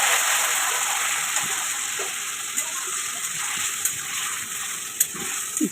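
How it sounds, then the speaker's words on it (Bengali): Hot oil sizzles steadily and close up as black cumin, dried chilli and a bay leaf temper in it for a vegetarian greens-and-potato dish, with a few light stirring clinks. "দেখো তেল, কালো জিরে, শুকনো লঙ্কা, একটা তেজপাতা দিয়ে ফোড়ন দিয়ে নেব।"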